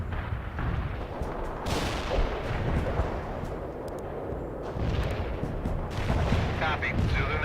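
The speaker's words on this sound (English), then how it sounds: "Zulu 9 are firing mortars." Mortar fire in the World in Conflict video game: a steady wash of loud battlefield noise with repeated booming impacts and crackling shots, rising in a few heavier bursts over the span.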